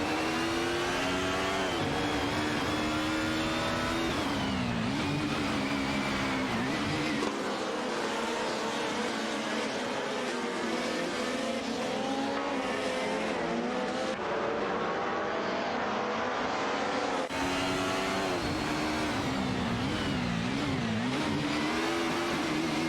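Race cars in a racing video game, including a Mercedes 190 Evo and a Mercedes 180 DTM, droning and revving continuously with shifting engine pitch and gear changes throughout, a dense unbroken engine roar with no voices.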